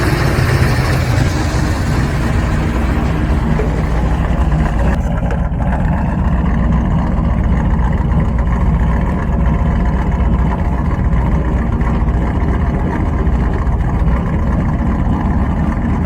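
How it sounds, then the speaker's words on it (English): A carbureted car engine fast idling after carburetor tuning in winter, a loud, steady, even rumble heard up close with no break. "this is an easier place for us to hear the idle coming up."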